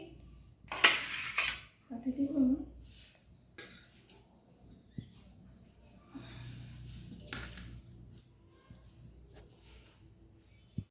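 Cutlery scraping and clinking against plates during a home meal of jackfruit curry with fried egg, a few close, sharp clatters and scrapes spread over quiet gaps, with no talking.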